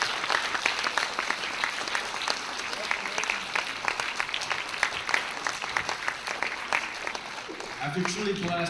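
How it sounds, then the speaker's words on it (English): An audience at a Carter Center summit closing session applauds the summit team and volunteers: steady, dense clapping throughout, with a speaker's voice resuming near the end. "please give them a round of applause"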